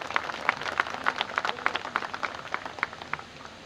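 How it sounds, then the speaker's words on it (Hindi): Scattered, fairly quiet hand claps ring out at an uneven pace from a crowd at a Kshatriya community gathering and land-worship ceremony for a new building, tapering off toward the end. "एक बार विजय सिंह राठौर और उनके पूरे टीम के लिए एक बार जोरदार तालियों से"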